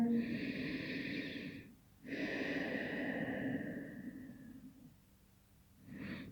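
Steady breathing held in a yoga pose, with a long inhale and a longer, sighing exhale, then a new breath starting, close-up and quiet, with no talking.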